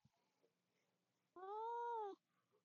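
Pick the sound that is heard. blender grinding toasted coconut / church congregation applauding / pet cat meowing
pet cat meowing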